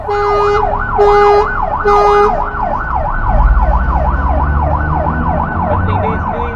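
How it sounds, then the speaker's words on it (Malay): An ambulance siren wails loudly and close by, its rising-and-falling tone cycling rapidly, with a few horn-like blasts at the start and traffic rumble beneath. "kita akan bagi laluan pada ambulans bila siren dibunyikan"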